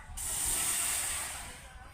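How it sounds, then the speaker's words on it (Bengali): Milk hits a hot wok with a sudden loud hiss that swells, holds steady for about a second and a half, then eases slightly, close and with no voice over it. "তার জন্য আমি কড়াইতে দিয়ে দেবো একটু দুধ"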